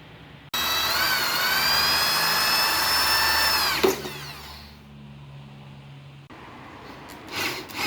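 A power drill whines at high speed for about three seconds, bites into the top of a seized engine piston and winds down, leaving a low hum and faint clinks.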